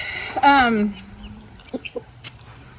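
A hen gives a drawn-out squawking cluck, then a few soft scattered clucks and scratching sounds follow nearby.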